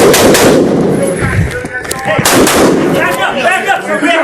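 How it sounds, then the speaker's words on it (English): Gunshots during a high school shooting, sharp bursts of rapid fire and scattered single cracks, loud and echoing indoors, with shouting voices mixed in. "Shots being fired."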